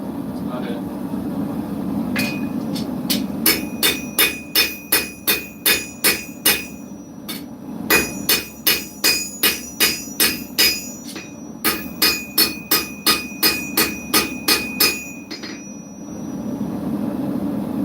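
A hammer rings on a steel anvil at a forge, delivering bursts of sharp, bright metallic strikes in quick rhythmic runs separated by short pauses, close and loud over a low background roar.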